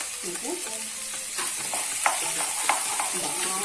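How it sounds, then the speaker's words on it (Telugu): Onions sizzle steadily in hot oil in a pan for chicken curry, with a spoon stirring and scraping at a close, even level and occasional louder clinks. "బాగా బ్రౌన్ కలర్ వచ్చే వరకు ఫ్రై చేయాలి."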